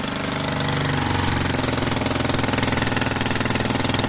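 A Piaggio Vespa 50cc scooter engine runs steadily nearby with an exhaust leak, a loud, fast, even putter with a raspy chuffing edge and no talk.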